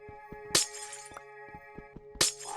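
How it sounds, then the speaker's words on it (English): Two sharp glass-like smashes in Minecraft, a modded game, each a bright crashing burst over a steady background tone with soft repeated thumps between them. "Don't like smashing sound, it makes me worry."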